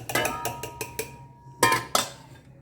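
Metal pots and utensils clink and clatter as cooked dal and spinach are moved from one pot to another, a handful of sharp knocks and scrapes spaced irregularly.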